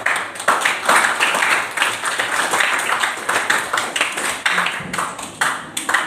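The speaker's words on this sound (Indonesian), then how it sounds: "Tepuk tangan untuk" Applause after a presentation and discussion in an academic supervision session, with several close, bright bursts of clapping in uneven rhythm.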